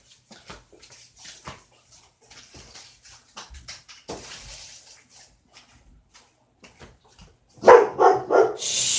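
Dogs bark in a quiet indoor room, a few soft sounds at first, then a loud run of close, repeated barks near the end.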